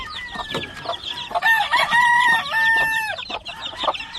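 Hens cluck and roosters crow among farm birds in Hawaii, several overlapping calls with drawn-out crows in the middle, close and fairly loud, and no talking.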